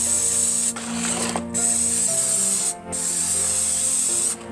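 Aerosol can of glitter hairspray sprayed in three long continuous hissing bursts, close and steady, with brief gaps between them and a faint hum underneath.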